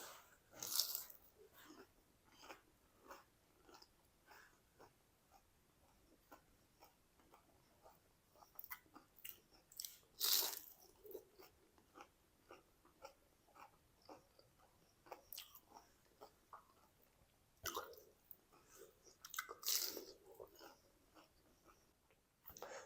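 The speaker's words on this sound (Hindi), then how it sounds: "ये चेक करें कितने मज़ेदार कुरकुरे माशाल्लाह स्नैक्स हमारे बन चुके हैं। खा के टेस्ट करते हैं।" Crunchy fried potato and semolina snacks being bitten and chewed, with sharp crunches and softer chewing ticks scattered irregularly across a quiet background, louder bites bursting out now and then.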